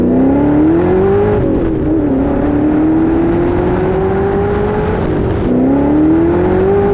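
Car with a 5.4 liter supercharged V8 accelerating hard, a loud, continuous engine note rising in pitch through a gear, dipping at a shift, then climbing again, heard from inside the cabin.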